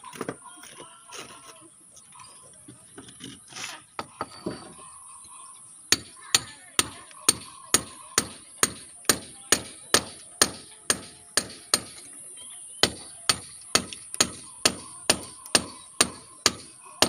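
Hammering during a home renovation: after a few scattered knocks and clatter, a long run of sharp, evenly spaced blows lands roughly every half second, loud and close, with a faint steady whine in the background.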